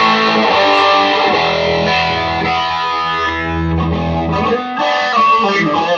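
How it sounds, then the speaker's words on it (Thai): A heavily distorted electric guitar, played through a distortion pedal, plays sustained chords, thick and loud, with no one speaking. "นี่เสียงแตกจากพี่หมูอย่างเดียวนะ"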